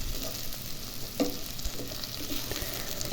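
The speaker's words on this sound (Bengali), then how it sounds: "দেখুন, আমার পেঁয়াজটা প্রায় ভাজা হয়ে গেছে।" Onions frying in a pan of oil for chicken curry, a steady close sizzle with faint occasional clinks of a stirring utensil.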